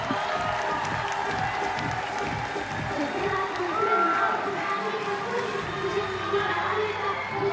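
Spectators at a women's bouldering final in Prague cheer and clap for a climber, a dense continuous crowd roar with scattered shouts, while a commentator talks over it.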